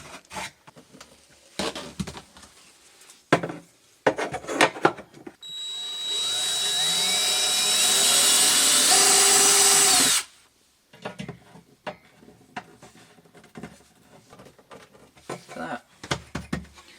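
A cordless power drill bores a hole through plywood, a whining burst of about five seconds that rises in pitch, framed by scattered knocks and handling sounds on either side.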